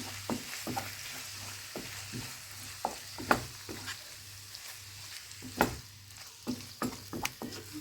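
Chicken liver pancake filling with black pepper stirred in a sizzling pan, rhythmic spoon scrapes and clinks over a low steady frying hiss.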